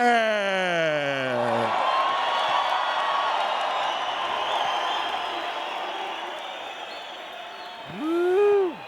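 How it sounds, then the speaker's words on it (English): A crowd at an MMA event in Mexico cheers, screams and whoops wildly for a fighter's introduction, a sustained loud roar that fades slightly before a final shout rises at the end. "And the crowd goes wild"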